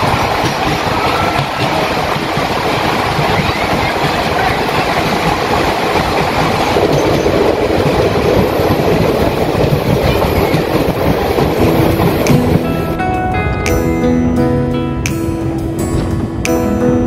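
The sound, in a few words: train running through small tunnels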